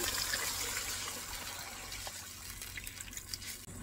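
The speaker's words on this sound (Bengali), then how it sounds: "পানি দিয়ে দিচ্ছি।" Water rushes and splashes into a pan of cooking dried lotte fish, a steady gushing pour close by that softens slightly toward the end.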